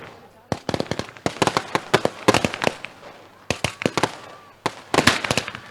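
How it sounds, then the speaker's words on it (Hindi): Firecrackers and fireworks burst in rapid volleys at a welcome ceremony during a local cricket premier league match in Mumbra, sharp cracks in dense clusters with brief pauses, loud and close, with a voice faintly in the background. "ये पटाखों की आतिशबाजी"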